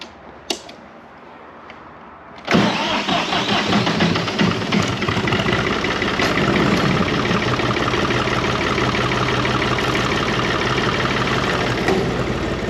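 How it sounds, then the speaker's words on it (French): After a few quiet knocks, a tractor engine cranks and roars to life, then settles into a loud, steady, rumbling idle close by. "c'est notre tracteur qui va démarrer tous les jours à partir de maintenant"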